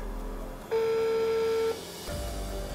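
A phone call rings out on speakerphone to an unknown number: a steady electronic ringback tone holds for about a second, then a lower tone begins after a short gap, over a faint room hum and with no one speaking.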